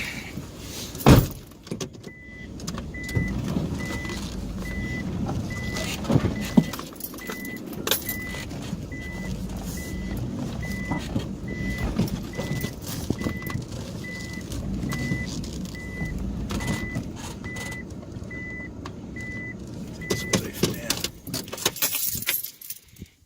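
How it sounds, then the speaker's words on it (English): A 4WD vehicle reverses along a gravel track in the Ruahine ranges, its engine running steadily with a regular reversing beep repeating through most of the stretch, plus jangling keys and a few knocks nearby. "But I'll reverse back to that spot and then we'll just walk down"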